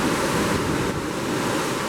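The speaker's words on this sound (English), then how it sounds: "Just looking at the Atlantic Ocean." Atlantic Ocean waves beneath a cruise ship balcony make a steady broadband wash of surf, with wind buffeting the microphone and no talk.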